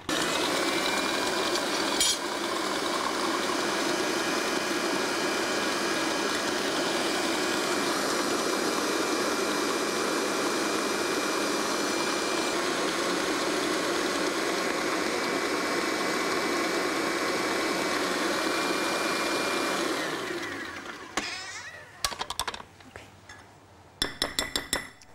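An electric mixer beating eggs and oil for a cake batter, a loud continuous whirring drone for about twenty seconds, then stopping with a few clinks and knocks of the bowl.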